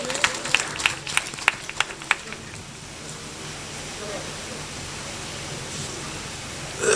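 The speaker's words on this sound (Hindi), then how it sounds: "जोरदार तालियों से स्वागत कीजिए।" Audience welcoming a cycle rally, a burst of sharp hand claps in the first two seconds fading into a diffuse, hissing wash of crowd noise that lingers evenly to the end.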